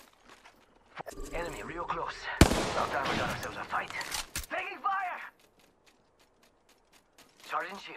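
Rapid bursts of gunfire from an Apex Legends match, loud and dense in the middle, mixed with mechanical clatter, with scattered speech before and after.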